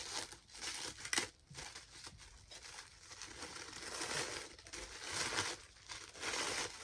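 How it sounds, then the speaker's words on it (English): Tissue paper wrapped around a small advent calendar present is unwrapped close to the microphone, making soft, irregular crinkling and rustling bursts with no voices over them. "So we're wrapped in little tissue paper."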